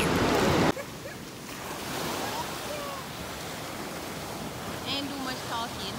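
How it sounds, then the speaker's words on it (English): Ocean waves wash onto the beach at Strawberry Fields, St. Mary, a steady low surf rush that follows a brief loud burst of wind noise at the start. "We're at the beach"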